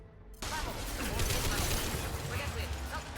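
Gunfire in Mass Effect 2 combat: a sudden onset of dense, rapid shots and mechanical clatter that continues steadily, loud and close, with a voice faintly mixed in.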